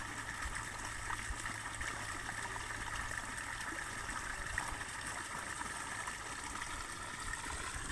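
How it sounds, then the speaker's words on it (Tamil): A pump set motor pours water steadily into a sugarcane farm field, giving a continuous rushing and splashing wash with a faint hum, unbroken and fairly distant, with no speech. "பாருங்கள் பம்பு செட் மோட்டர் தண்ணி எப்படி ஊற்றிக்கிட்டு இருக்கு பாருங்கள்"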